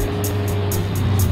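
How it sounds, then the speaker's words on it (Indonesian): A truck passes close by as a loud, steady engine rumble with regular rhythmic pulses, heard alone. "truk lewat."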